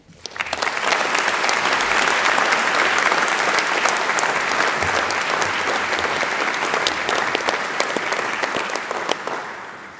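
Applause at a university graduation ceremony: a large audience claps steadily and loudly for about ten seconds, rising quickly at the start and tapering slightly near the end.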